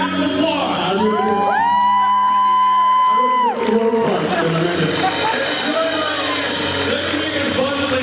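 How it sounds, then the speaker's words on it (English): Convention audience at a fan-con main panel cheers and whoops loudly, a dense crowd roar with high shouts and a sung or whistled rising tone early on, continuous throughout. "Round of applause."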